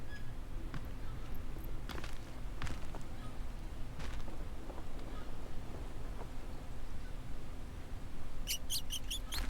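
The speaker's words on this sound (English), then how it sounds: "I still hear a mouse." A mouse in the jungle survival game Green Hell squeaks in short, high-pitched bursts near the end, over a steady ambient forest bed with scattered faint clicks.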